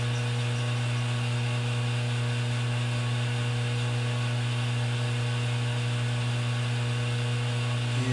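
A lathe form tool plunges into the head of a steel carriage stop clamp bolt, a steady loud machine whine with strong tonal bands holding constant throughout, with no pauses and no voices.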